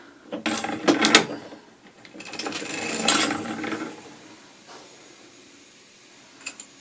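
Needles being lifted one pair at a time on a hand-cranked sock knitting machine, giving two clusters of sharp metallic clicks and rattles up close, then quieter fiddling and a final tick.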